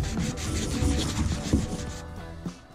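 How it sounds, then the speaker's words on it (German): A machine sander works over fresh gelcoat on a flat section of a boat hull, a close, continuous rough grinding rasp that fades slightly toward the end. "An den geraden Flächen kann man immerhin mit der Maschine schleifen."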